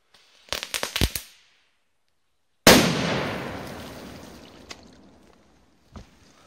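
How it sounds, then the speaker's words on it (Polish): Funke Titanblitz crackling firecrackers set off on water outdoors: a rapid cluster of sharp pops, then after a pause a loud bang with a long fading rumble and a couple of faint later pops. "Bardzo mocne petardy."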